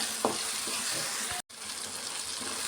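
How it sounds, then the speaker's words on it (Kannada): Sambar powder and tamarind frying in hot oil, a steady close sizzle with faint stirring scrapes and a brief cut-out near the middle. "ಸಾಂಬಾರು ಪುಡಿನೂ ಹುಣಸೆಹಣ್ಣು ಚೆನ್ನಾಗಿ ಆಯಿಲಲ್ಲಿ ಚೆನ್ನಾಗಿ ಫ್ರೈ ಮಾಡ್ಕೊಬೇಕು"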